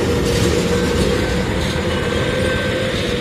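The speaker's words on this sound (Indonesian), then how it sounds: "Lokomotifnya CC206-13 dilepas, dilangsir ke arah timur." Locomotive CC206-13, uncoupled and shunted east at Kutoarjo station, gives a continuous loud rumble with rolling rail noise, heard close and unbroken.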